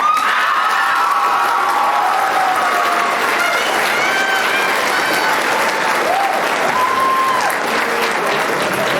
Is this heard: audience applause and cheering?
yes